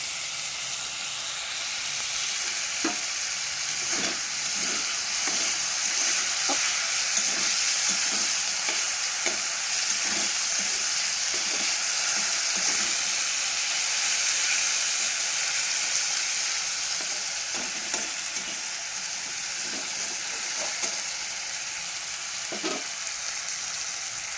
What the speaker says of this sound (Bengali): আলু আর বিট ভেজে, গাজর ভেজে নেব, একটু নুন দিয়ে দেবো।